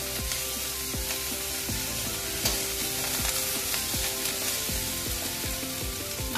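Fish frying in a pan with drumstick leaves, garlic and ginger, a steady loud sizzle running throughout, with repeated scraping clicks of a spatula stirring the pan.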